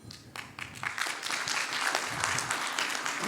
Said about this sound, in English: That clapping surprised me, and I'm happy.